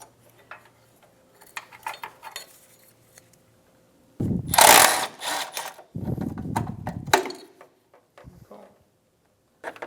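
Ratchet or tool removing 10mm bolts from the top condenser brackets of a 2013-2017 Honda Accord, with sparse light clicks, then two loud bursts of rapid ratcheting, close, with no talk.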